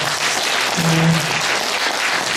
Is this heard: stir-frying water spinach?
no